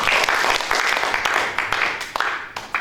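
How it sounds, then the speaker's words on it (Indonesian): A church congregation claps at a leader breakfast meeting, a brief burst of hand claps that thins out and fades over a few seconds. "Kasih tepuk tangan buat Tuhan."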